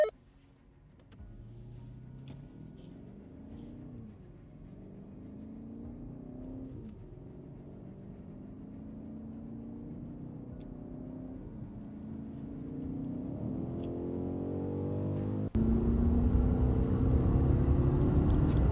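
A BMW X7 M60i and a Mercedes GLS580 launch hard in a drag race, their engines climbing through several gear changes in rising, steadily louder sweeps that swell into a roaring wind-rushed finish.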